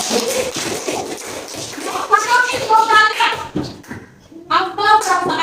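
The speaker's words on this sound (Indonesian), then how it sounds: "berikan tepuk tangan buat temannya guys ya" Classroom applause for a student mixes scattered claps and taps with children's voices and chatter, uneven and close, rising and dipping over several seconds.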